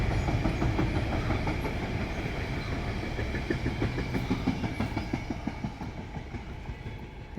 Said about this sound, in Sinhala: කෝච්චියකුත් යනවා ඒ ඇස්සේ.